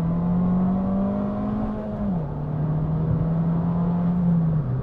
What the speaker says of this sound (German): dann dreht der Motor extrem willig aus, hängt super gut am Gas